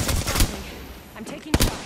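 Video game gunfire in a squad shooter: a few quick bursts of close, punchy shots, then a pause and another sharp volley.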